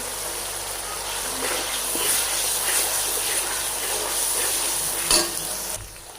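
Spices with ginger-garlic paste sizzle and crackle steadily in a hot pan for kofta biryani, with occasional stirring scrapes, close and moderately loud.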